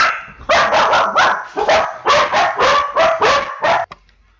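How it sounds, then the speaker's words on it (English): Several dogs bark indoors after a knock at the door, loud and close, in a rapid burst of about a dozen sharp barks over a few seconds before cutting off abruptly into quiet. "sorry about the dogs"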